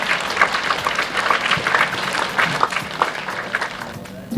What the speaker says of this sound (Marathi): जोरदार टाळ्यांनी आपण स्वागत करूया